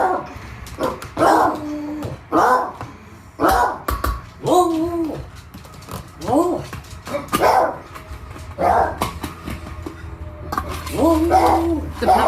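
A puppy barks and yips repeatedly in short bursts, loud and close, with whimpering between barks, in a kitchen while charcoal warms on the grill and the oven preheats for burgers and roasted potatoes.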